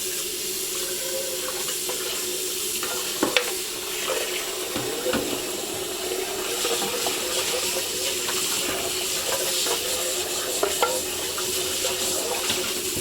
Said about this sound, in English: we're just instantly going to rinse it